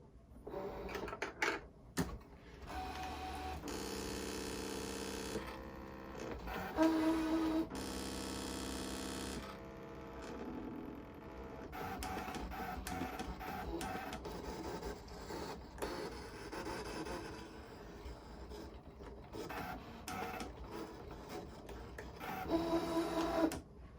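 ScanNCut craft cutting machine running a half-cut job, a quiet, continuous mechanical whir with shifting motor tones and carriage movements, steady throughout with occasional brief changes in pitch.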